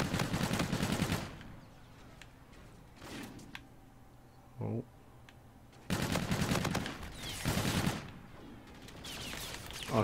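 The MV4 assault rifle firing in Call of Duty: Infinite Warfare, with loud sustained automatic bursts separated by quieter gaps and a brief thump in between.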